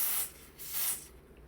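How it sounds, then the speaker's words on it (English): Hair spray misted over a wig in two long aerosol bursts, bright steady hiss each time with a short gap between, close by and alone. "I'm gonna spray a little bit more of this."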